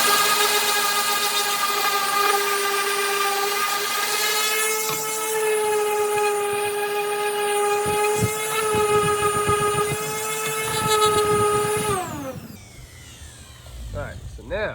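A power sander whines loudly and steadily over epoxy resin river coasters in wood, its pitch wavering slightly, then winds down and stops, leaving a quiet shop.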